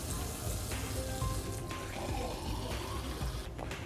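Tap water runs from a faucet into a glass for a sample, a continuous splashing pour heard close and fairly quiet.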